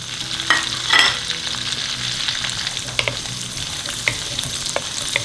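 Cumin seed, green chillies, green cardamom and bay leaf frying in hot ghee and butter in a pan for dal makhani, a loud steady close sizzle with occasional pops and stirring scrapes.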